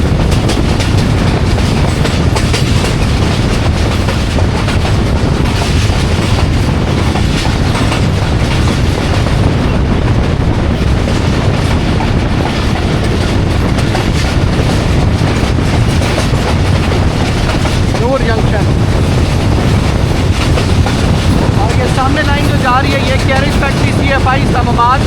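Jaffar Express passenger train running through a junction, a loud, steady rumble of wheels and carriages with rhythmic clickety-clack heard from on board, continuous for the whole stretch.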